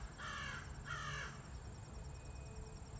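Crow gives two harsh caws in quick succession, faint and distant over a steady background hiss that carries an enclosed, boxy quality.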